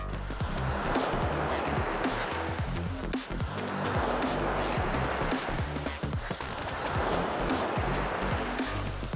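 Loud surf on the East Sea coast breaks in steady swells, a broad continuous roar of crashing waves swelling and easing across the shore with no voices.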